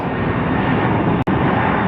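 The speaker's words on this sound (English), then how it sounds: "This Delta Connect always flies between LAX and Phoenix." Delta Connection regional passenger jet taxiing at Phoenix Sky Harbor Airport, a steady broadband engine roar that holds loud and constant throughout, broken only by a momentary dropout near the end.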